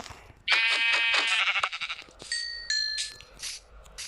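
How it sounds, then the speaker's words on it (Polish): Sheep in a Minecraft-style video game bleat several times in quick succession, loud and close, with a bright, wavering, nasal tone and short pauses between calls. "owca."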